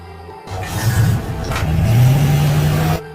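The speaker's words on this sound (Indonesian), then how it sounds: "kemudian ia tancap gas dengan mobilnya" A car engine revs up as the vehicle speeds away, a loud rising mechanical roar that swells and holds for a few seconds before cutting off abruptly.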